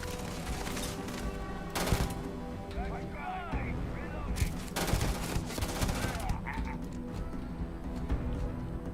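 SMG gunfire in Starfield rattles in bursts amid heavier blasts and rumbling combat noise, loud and continuous, while a player talks over the fighting.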